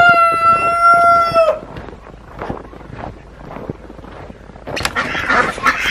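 Chickens and ducks in a snowy winter coop: a rooster crows loudly up close, then quieter shuffling, clucks and quacking-like calls follow, with a louder burst of activity near the end.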